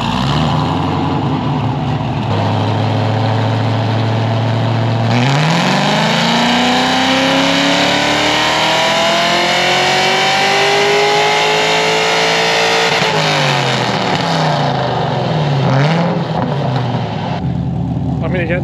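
Pontiac GTO engine revving on a dyno during a pull, a loud close roar that climbs steadily in pitch through the run, then drops back and settles into a rough idle.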